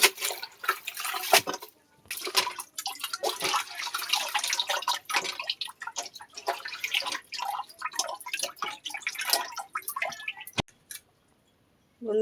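Leafy greens are rinsed by hand in water, close-up splashing, dripping and wet squishing in uneven bursts that stop briefly near the end, with no one talking.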